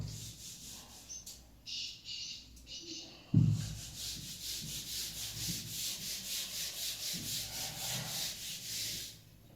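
Writing being rubbed off a board with an eraser, a rhythmic scrubbing swish of repeated strokes, close and steady for several seconds after a single sharp knock.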